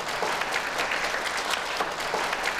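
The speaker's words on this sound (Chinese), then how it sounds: "下面我们用热烈的掌声有请欧阳先生和徐思雨小姐上台。" Steady, dense applause fills a banquet hall at an engagement celebration, continuous clapping from a crowd with no break and no talk over it.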